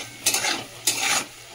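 Potatoes with turmeric and salt are stirred in a pan, giving two scraping, sizzling strokes, each under a second, with a low steady hum beneath.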